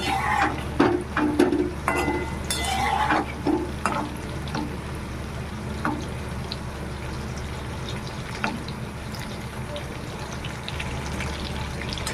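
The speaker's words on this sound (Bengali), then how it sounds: "বেগুন ভাজতে বেশি সময় লাগে না দেখুন আর একটু ভেজে নেবো ভালো করে" Brinjal (eggplant) pieces fry in a pan with a continuous close sizzle, broken by scattered clicks and scrapes of stirring.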